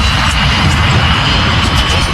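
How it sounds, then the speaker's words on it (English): Boeing 737 jet engines at high thrust on the takeoff roll, a loud continuous roar with a steady broadband whine, heard close and without voices. "The 737 finally begins to roll down the runway."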